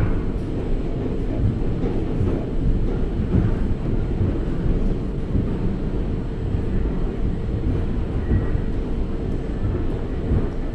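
An AC Double Decker Superfast Express pulls into a platform in the Indian Train Simulator game, a continuous low rumbling roll of wheels and engine that stays loud and even throughout.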